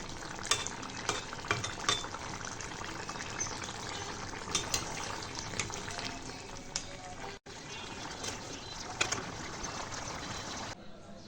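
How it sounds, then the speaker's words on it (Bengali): Oil crackles and sizzles steadily in a pan of stinging catfish curry cooking on low heat, a dense continuous frying hiss with occasional sharper pops. "তেল ফুটো হলে নামিয়ে নেব, তাহলে তরকারিটি তৈরি হয়ে যাবে"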